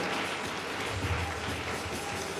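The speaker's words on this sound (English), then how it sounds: "You are clapping for Jesus." A church congregation at a night prophecy service claps for Jesus, a dense, steady wash of hands with low rumbling background, continuous for a few seconds.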